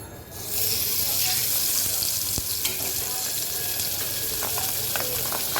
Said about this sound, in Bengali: দেখো কড়াইতে আমি সরিষা তেল দিয়ে দিয়েছি এখন আমি মাছটাকে সুন্দর করে ভেজে নেবো